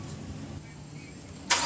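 A Mitsubishi Xpander's engine cranks and catches near the end of a short, quiet stretch, a sudden loud burst after near silence.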